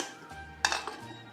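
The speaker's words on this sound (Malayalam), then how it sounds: "ആദ്യം നമ്മൾ ചെയ്യാൻ പോകുന്നത് ഇതൊരു പ്രഷർ കുക്കർ എടുത്തിട്ടുണ്ട്." A metal pressure cooker is set down and handled in a home kitchen before cooking pork, giving a brief bright clank with a couple of lighter metallic knocks, close and fairly quiet.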